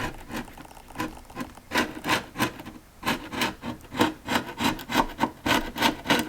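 An abrasive wire brush spun by a drill scrubs the old wood of an antique children's table, making rhythmic, harsh rasping strokes that rise and fall in quick repeated bursts, close and fairly loud.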